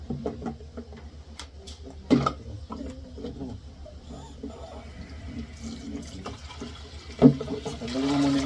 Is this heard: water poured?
yes